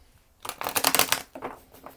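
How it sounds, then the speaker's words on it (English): A quick riffle of tarot cards being shuffled, a crisp fluttering burst followed by a shorter second flurry, close and clear with no talking. "we're going to do 3 more shuffles"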